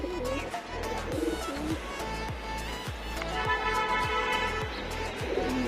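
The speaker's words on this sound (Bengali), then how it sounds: "ওদিকে কবুতর উঠতেছে।" Pigeons at a loft give rhythmic, pulsing coos, close and fairly loud, repeating steadily throughout with no speech over them.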